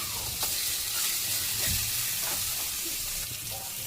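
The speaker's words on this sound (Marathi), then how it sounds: "आता हे मासे परतून घ्यायचे" Fish frying and being stirred in a pan, a soft continuous sizzle with occasional scraping clicks of stirring, fairly quiet and close.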